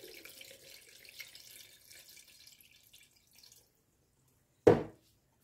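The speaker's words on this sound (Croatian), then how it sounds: "Prvi put ću procijediti samo kroz sito." Mint cordial mixture being strained through a sieve, a faint trickling pour of liquid that thins out and stops, followed by a single sharp knock near the end.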